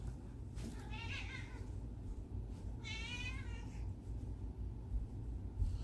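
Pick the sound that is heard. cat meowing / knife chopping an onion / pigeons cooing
cat meowing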